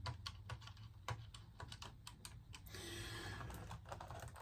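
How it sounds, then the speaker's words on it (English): Quick, close clicking of keys tapped on a controller keyboard in irregular bursts, with a brief hiss partway through. "Controller keyboard."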